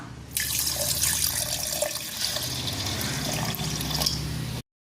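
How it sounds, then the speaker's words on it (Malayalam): Water is poured into a ginger lemonade mixture in a steady, close, continuous stream for about four seconds, then stops abruptly. "ഇനി നമുക്ക് ആവശ്യമായ വെള്ളം ഒഴിച്ചു കൊടുക്കാം"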